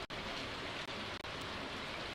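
Steady rain falling in a video game, a dense continuous hiss of rainfall at moderate level with a couple of brief dropouts, no voices.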